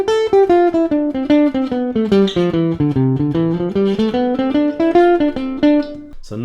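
A guitar runs up and down scale patterns in a steady stream of evenly picked notes, close and clear, with no accompaniment.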